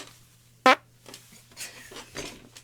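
A retro-style fart noise, one short loud burst near the start, followed by quieter scattered sounds.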